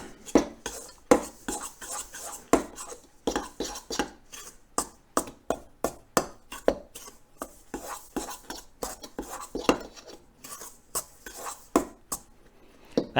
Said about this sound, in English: let's mix this all up